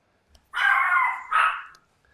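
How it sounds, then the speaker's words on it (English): A small dog gives two high, yappy barks close by, the first drawn out and the second shorter, with near silence around them. "My little dogs."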